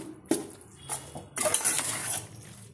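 A kadai pan is set down on a home kitchen stove, giving a sharp metallic clank followed by brief clattering of cookware and utensils, close and fairly loud with no talking.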